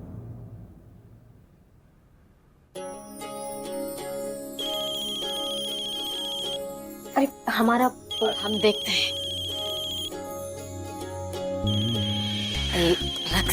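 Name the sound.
phone ringing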